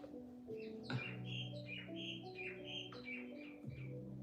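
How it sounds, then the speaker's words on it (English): Bird tweeting on a balcony just outside, a series of clear repeated chirps and whistled calls in quick succession, fairly close over a faint indoor background. "Do you hear that bird outside"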